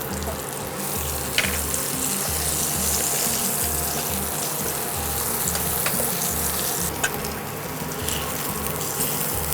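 Eggplant pieces frying in hot oil in a pan for rui fish curry, a loud, continuous crackling sizzle with occasional louder pops and clicks throughout.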